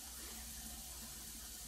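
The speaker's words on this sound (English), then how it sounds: "I'm over at the sink. I got my soap in hand with warm water." Warm water running from a sink tap for handwashing, as a faint, continuous, even rush of water with no talking.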